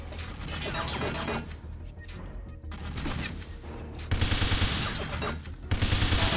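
Enemy gunfire in the video game 007 Everything or Nothing, heard as rapid automatic bursts and mechanical clatter, loudest in two sharp stretches toward the end, set against steady game background noise.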